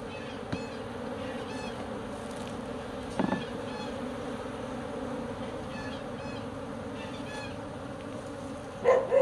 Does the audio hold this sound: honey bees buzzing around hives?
yes